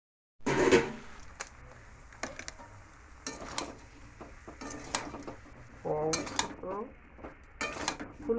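Fried cauliflower and potato are worked with spices in a metal pan, with scattered spoon clanks and scrapes against the pan at irregular intervals, close by, over a faint sizzle.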